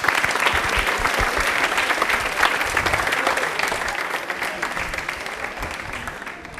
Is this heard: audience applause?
yes